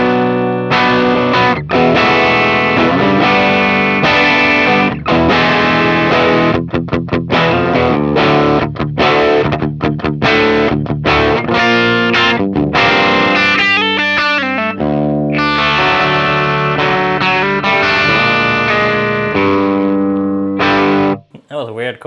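An electric guitar plays its bypass tone, with no pedal engaged, through an audio interface using ML Sound Labs impulse responses. Loud, sustained chords and single notes break up slightly with overdrive, ringing almost continuously throughout.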